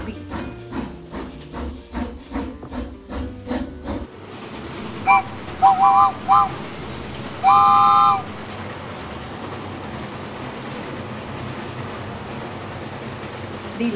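A cartoon train chugs in a steady rhythm, then hisses out steam and sounds several short whistle toots as it pulls away.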